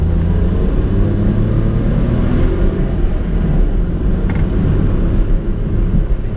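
A 1993 Honda Today Pochette small car driving and downshifting, a steady low engine drone with rumbling road noise throughout, heard from inside the cabin without talk.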